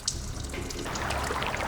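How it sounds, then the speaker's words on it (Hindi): Water flows steadily in a dangerous jungle setting, a continuous rushing, splashing wash that fills the whole stretch at even loudness, with no voices over it. "पानी बहने की आवाज आ रही है।"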